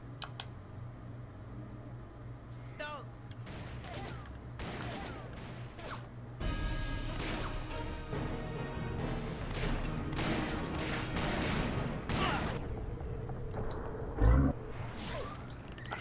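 Gunfire in the Western shooter game Call of Juarez: scattered sharp shots and impacts over a steady game backdrop, busier after the midpoint, with one louder bang near the end.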